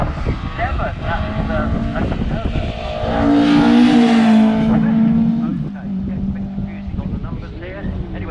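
A Ford Mark II Escort race car drifts through a hillclimb bend at Shelsley Walsh, its engine roaring close and loud, rising to a peak midway with tyre scrub before fading, under steady commentary.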